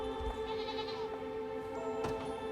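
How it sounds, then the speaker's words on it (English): Goats bleat in the video game Unicorn Overlord, giving a few short nasal calls over steady game music and ambience, with a sharper bleat near the end and no speech. "We can look around for some more goats as we walk through here."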